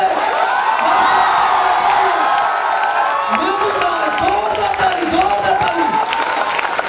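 Loud, sustained applause and cheering from a crowd at a sales training event in Patna, with whoops and shouts rising over dense clapping as a guest is called up to the stage.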